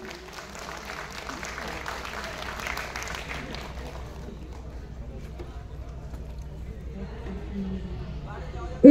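Audience applause at a Bengali welcoming ceremony where a guest is honoured with a scarf, bouquet and sapling. Loud, steady clapping fills the first four seconds, then thins into quieter scattered claps under murmuring voices.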